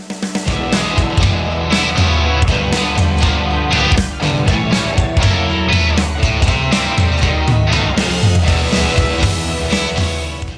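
Blues song played on guitar with a full band, loud and continuous, with steady rhythmic strumming and a dense, unbroken mix.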